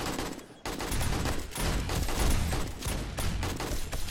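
Sustained gunfire during a horde night in the video game 7 Days to Die, with rapid repeated shots over a busy, noisy background at moderate level.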